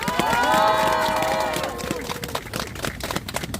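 A crowd at an outdoor press-conference rally against press suppression bursts into applause, dense clapping mixed with a sustained tonal sound early on, then thinning into scattered claps.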